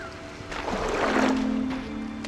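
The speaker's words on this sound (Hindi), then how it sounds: "बारिश में मजा नहीं आता।" Rain falls in the video game Sky: Children of the Light, a soft broadband wash of rainfall that swells through the middle and eases off, heard alone without talk.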